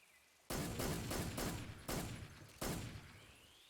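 Gunfire in Metal Gear Solid 3 rings out as several sharp, loud reports, each with a trailing tail, spaced roughly a second apart after a quiet start.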